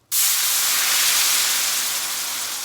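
A loud rush of steam bursts off a hot cooking surface while steak is being cooked, starting abruptly and hissing steadily and close for the rest of the moment, with no talking.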